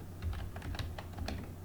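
Rapid keystrokes on a computer keyboard, a steady run of close, crisp clicks with no voice.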